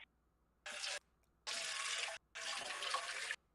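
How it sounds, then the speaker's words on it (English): Water runs from a tap in three bursts of steady rushing, each lasting around a second with short silent gaps between them, fairly close and with no talking. "Got the water coming through there."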